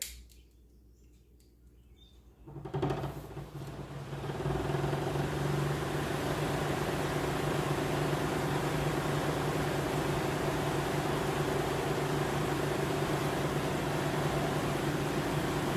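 A homemade electric fan, its motor shaft sleeved to take a swapped-in blade from another fan, starts up after a quiet moment and then runs with a steady, fairly loud whir and hum that does not change.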